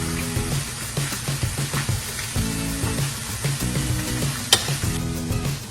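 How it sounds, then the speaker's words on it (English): Fish fillets sear in a hot skillet with a steady, crackling sizzle, punctuated by repeated scraping and stirring sounds close up. "I'm just gonna sear my fish."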